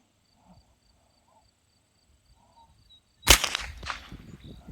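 A single sharp crack of a Bear Creek BC-201 rifle firing a 40 grain CCI Blazer round outdoors, loud and close, fading out after faint insect chirps in the quiet beforehand.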